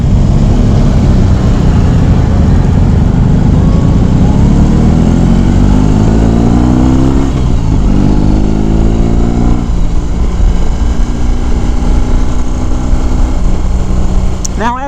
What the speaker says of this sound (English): we are getting some buffeting, and you can probably hear it in the audio